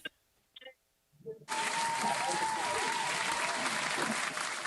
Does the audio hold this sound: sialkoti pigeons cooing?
no